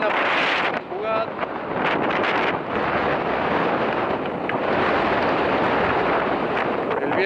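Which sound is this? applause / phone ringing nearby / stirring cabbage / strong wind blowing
strong wind blowing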